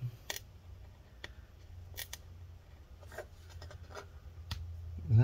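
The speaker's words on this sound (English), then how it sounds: "so we can peel up some of the adhesive" Battery adhesive being slowly peeled off inside a mid-2015 15-inch Retina MacBook Pro A1398, heard close up as quiet intermittent scratchy pulls and ticks over a low hum, with a louder scrape at the end.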